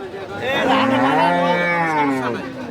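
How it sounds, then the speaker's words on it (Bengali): A Friesian dairy cow gives one long, loud, close moo with a rising then falling tonal bellow, sustained for about two seconds over faint background noise. "দুই নাম্বার সিরিয়ালের আরেকটা বিগ বডির গাভী দেখতেছি মামা এই গরুটা কি জাতের ফিজিয়ান"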